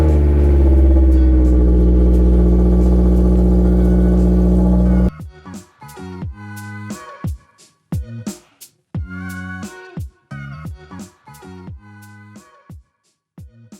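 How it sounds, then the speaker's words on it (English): A Honda S2000 cold-starts: a loud sustained engine roar holds for about five seconds, then choppy intermittent revs and bursts of engine noise follow, close by. "It's a cold start for the boys."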